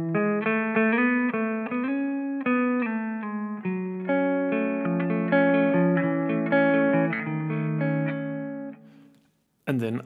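Electric guitar clean tone through a Laney amplifier, EQ-matched to a recording: a smooth, ringing melodic line of overlapping sustained notes and chords, steady and close, ending with a brief sharp noise.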